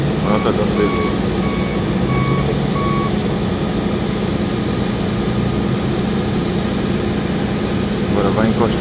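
A snow removal truck reverses during Montreal snow clearing, its backup alarm sounding a steady series of regular beeps over a loud, constant engine and machinery drone, with a voice talking now and then.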